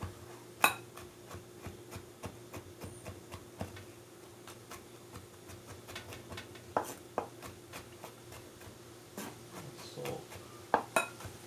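Knife chopping garlic on a cutting board for garlic butter shrimp pasta, a run of sharp irregular taps and knocks at close range, some in quick bursts, with a faint steady background hum and no talking.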